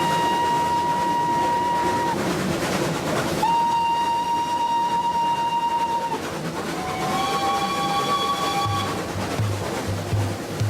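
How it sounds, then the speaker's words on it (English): Train passing with repeated sustained horn blasts, a long steady tone, a pause, then another long blast and a wavering final one over a continuous rumbling rail noise. "Jinnah took the train from Delhi."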